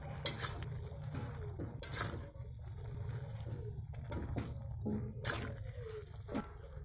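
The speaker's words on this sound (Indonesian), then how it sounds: "Lalu aduk kembali." Seblak with chicken feet being stirred in a pan, giving repeated clanking scrapes of a utensil against the metal alongside wet, squishy sloshing, steady and close.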